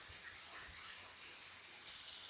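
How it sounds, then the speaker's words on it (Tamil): Water pours down steadily into a farm well, a soft continuous hiss and splash heard faintly and alone from some distance. "தண்ணி நல்லா விழுகிறத கிணத்துக்குள்ளே அப்படியே விழுகிறது பாருங்கள்"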